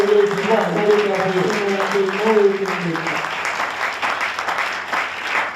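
A church congregation bursts into sustained applause and clapping, loud and dense throughout, with a voice rising over it at the start before the clapping carries on alone.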